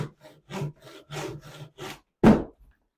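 Rhythmic back-and-forth strokes of a frame saw biting through firewood, about eight rasping passes with brief pauses, close and clear.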